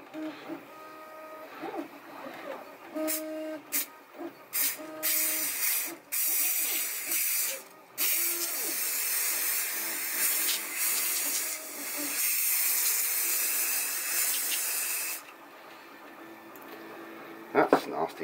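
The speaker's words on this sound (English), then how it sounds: "when you spray, it comes out as a stream rather than a spray" Spray adhesive hisses out of an aerosol can in long bursts, applied to felt backing for a coaster, with short pauses between sprays and some handling clatter.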